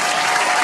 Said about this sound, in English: Applause is nasty.